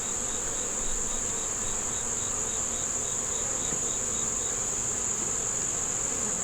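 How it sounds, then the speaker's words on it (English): Honey bees drone and buzz around an open backyard beehive, a dense steady hum at constant level with a faint high whine on top, close and continuous without speech. "The bees look healthy."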